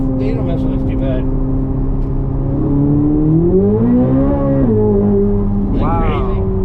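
A 2026 Chevrolet Corvette Z06 3LZ V8 supercar revs while driving, its engine note climbing and falling in a smooth sweep over a constant road roar, heard from inside the cabin with people talking over it.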